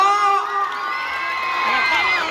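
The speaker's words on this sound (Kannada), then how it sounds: "ಒಂದ್ಸರಿ ಚಪ್ಪಾಳೆ ಬರಲಿ ಜೋರಾಗಿ ಕೂಗ್ಬೇಕು" A large outdoor festival crowd at the Belavadi Mallamma Utsav cheers, whoops and shouts loudly and steadily throughout, with children's voices mixed in and little sign of separate claps.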